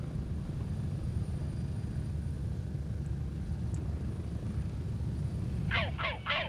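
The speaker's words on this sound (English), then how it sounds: "The helicopter gets really loud." Helicopter in the video game Gray Zone, a steady low rotor and engine drone running continuously underneath, with a few short bursts of other game sounds near the end.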